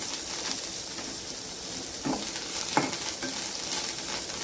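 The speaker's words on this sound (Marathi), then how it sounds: "छान असं क्रिस्पी होईपर्यंत भाजून घ्यायचं आहे सगळं" Poha chivda with coriander roasting in a pan until crispy, giving a steady soft sizzle with a couple of brief stirring scrapes.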